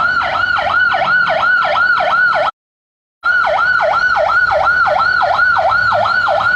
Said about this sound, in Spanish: Ay, qué escándalo con esa ambulancia.